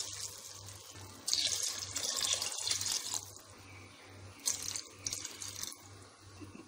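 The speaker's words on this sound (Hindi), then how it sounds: "अब इसमें 3 कप जो है वो हमने पानी ऐड करना है" Three cups of water pour in bursts into a pot of rice for matar pulao with a splashing rush, stopping and starting a few times over a low steady hum.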